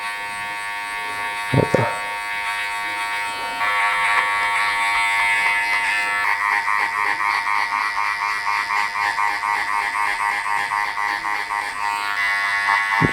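An electric hair clipper buzzes steadily and close, with a pulsing hum as it is worked through hair during a haircut. Someone speaks briefly near the start.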